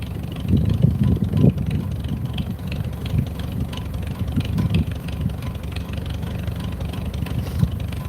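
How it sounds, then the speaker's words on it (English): Tractor engine idling while warming up on a cold day, a steady low rumbling drone with slight mechanical rattles, close and continuous throughout. "Can I stop the motor? Not if I want it to warm up"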